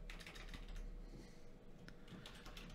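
Someone types on a computer keyboard during an Unreal Engine 5 tutorial, a quiet, steady patter of quick key clicks with no talking.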